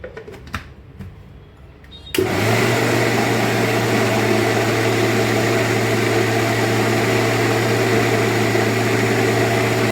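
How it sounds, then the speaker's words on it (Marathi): After a few soft clicks and knocks, a mixer grinder starts up blending raw mango pulp with a little water, then keeps a loud, steady motor whir running close by for the rest of the clip, with no voices. "आता हा एकजीव होण्यासाठी गर मी मिक्सरमधून फिरवून घेते"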